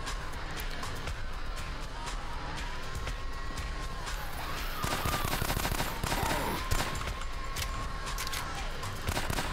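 Rapid gunfire aimed at spiders in the video game Gynophobia, a dense string of crackling shots with game sound effects underneath.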